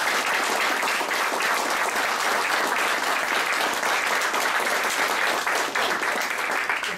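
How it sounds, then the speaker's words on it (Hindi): A crowd gives loud, sustained applause for Prashant during a self-discipline training session, thick continuous clapping at even strength throughout with no talking over it. "एक बार जोरदार तालियां होना चाहिए प्रशांत के लिए।"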